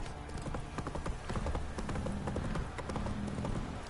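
The horse Roach trots in The Witcher 3, with steady clip-clop hoofbeats close by over a constant bed of game ambience and a low musical drone, without pause for the whole stretch.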